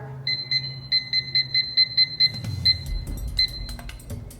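A timer goes off with a bright electronic beeping, about a dozen quick, evenly spaced pulses that are close and clear, then a pause, one last beep and a faint low rustle.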